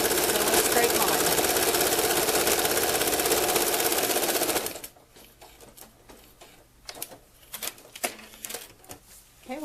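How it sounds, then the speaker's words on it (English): A sewing machine runs steadily and loudly, stitching a straight line at a short stitch length while quilting a modern stained-glass block, then stops abruptly about halfway through, leaving quieter handling noises. "And then we just sew a straight line."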